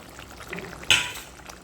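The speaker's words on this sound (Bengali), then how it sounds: "এরপর আমি এর মধ্যে মাছগুলো সব ঢেলে দিচ্ছি" Fish poured into bubbling curry gravy, a single sudden splash near the middle, brief and fairly close, over a low simmering background.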